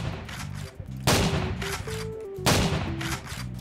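Shotgun blasts in a Roblox shooter game, two loud, booming shots about a second and a half apart, standing out over steady game music and background noise.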